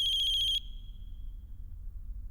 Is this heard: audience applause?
no